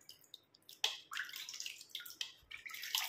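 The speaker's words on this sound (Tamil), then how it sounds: "இதை நம்ம வாஷ் பண்ணி பார்க்கலாம்" Water splashes while coconut-powder hair dye is rinsed off, quiet irregular bursts of wet splashing and dripping with short pauses between.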